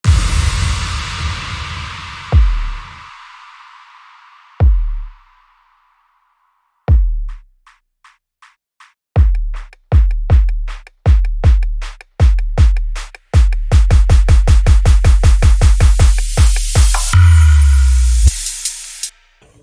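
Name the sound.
melodic dubstep build-up with drums and effects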